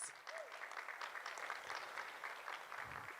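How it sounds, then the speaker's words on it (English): Steady applause from a crowd at a charity auction gala, dense overlapping clapping that holds throughout at an even level without pause. "Big round of applause"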